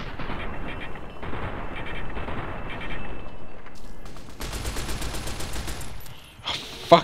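Rapid gunfire in Fallout: New Vegas during a firefight in the town of Nipton, sustained loud bursts and volleys that cut off near the end, followed by a short sharp crack.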